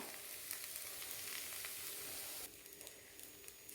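Carrot and green gram dosa batter sizzles on a hot pan with a constant crackling hiss, fairly quiet and close, easing slightly partway through.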